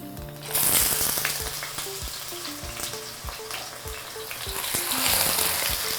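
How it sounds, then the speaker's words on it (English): Grated onion and garlic sauté in hot olive oil for a Moroccan chicken tagine, a loud, close sizzle that swells and eases, with scrapes and knocks of stirring and no voices. "So we're going to saute this grated onion and garlic in our olive oil"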